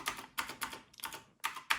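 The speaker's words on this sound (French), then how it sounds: "c'est un clavier mécanique Razer Black Widow Chroma, la première version" Typing on a first-generation Razer BlackWidow Chroma mechanical keyboard with clicky keys produces close, crisp clusters of clacking keystrokes in irregular bursts separated by brief pauses, with no talking.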